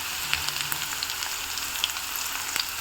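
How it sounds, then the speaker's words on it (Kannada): Ginger garlic paste frying in oil in a pan for a chicken dish, a steady, soft crackling sizzle with scattered pops throughout, heard alone without talk. "ಇದು ಚೆನ್ನಾಗಿ ಫ್ರೈ ಆಗ್ತಿದೆ"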